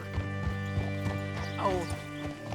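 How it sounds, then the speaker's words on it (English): Horse hooves clip-clop in a steady rhythm with a short whinny partway through, in the Western video game Red Dead Redemption 2, set over a constant musical drone and background hum. "Get your horse up here."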